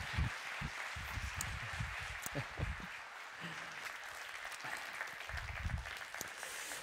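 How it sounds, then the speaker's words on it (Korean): A church congregation claps to welcome a visiting professor to the stage at a Friday evening service, a soft, distant spatter of applause with occasional low thumps and footsteps beneath it. "이 시간 다시 한번 우리 임도균 교수님 나오실 때 큰 박수로 환영해 주시길 바랍니다"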